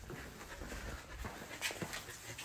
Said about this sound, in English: Golden Retriever is literally clogging the doggy door.